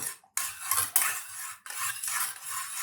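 A spoon stirs a jelly mixture in a cup, scraping and clinking against the sides in steady bursts with brief pauses between strokes, close and fairly clear.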